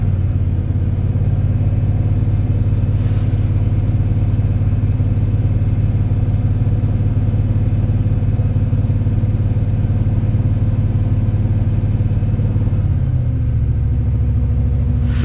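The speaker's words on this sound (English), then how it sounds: "I'm just gonna rev it up." A rebuilt Ford big block engine that is running rich holds a loud, steady, close rumble at raised revs, then drops to a lower idle near the end. No one speaks.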